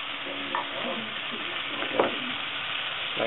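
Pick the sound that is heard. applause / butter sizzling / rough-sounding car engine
butter sizzling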